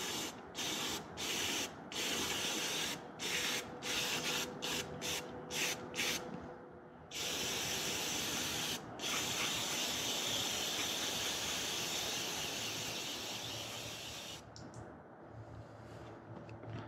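Mass airflow sensor cleaner hisses in a string of short aerosol bursts onto a car's sensor, then one long continuous spray near the microphone, with no talking.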